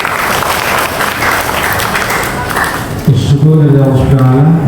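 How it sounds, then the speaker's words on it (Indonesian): Audience applause at a Kebumen civil-service ceremony for retirement and appointment of technical contract staff, honoring a local high-school art teacher; dense clapping fills the first three seconds, then a voice begins talking over fading claps. "Tepuk tangan buat Pak Slamet"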